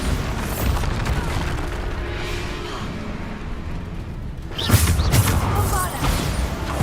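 Repeated Bombarda spell blasts in Hogwarts Legacy, loud booming explosions and crashing debris layered over game effects, with a heavier burst partway through.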